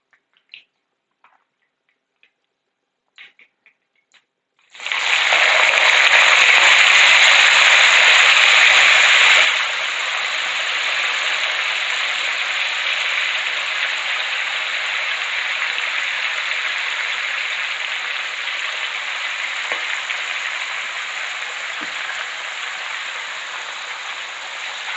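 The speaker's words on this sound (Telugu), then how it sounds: "పోపు వేగిపోయింది, ఇప్పుడు వంకాయలు వేసేసుకుందాం." Eggplant pieces hit a hot tempering in the pan, bursting into a loud, close hiss of sizzling after a few faint clicks, then settling into a steady, slightly softer sizzle that continues throughout.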